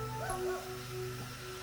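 A person imitates a dog with whining, yipping vocal sounds, a short wavering whimper over a steady low background hum, with no words spoken.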